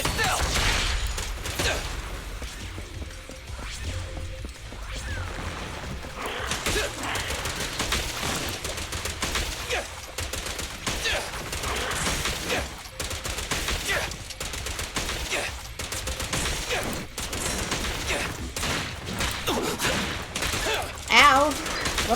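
Rapid bursts of video-game gunfire from Zenless Zone Zero crackle in repeated volleys amid combat effects and music, with voices talking over parts of the action.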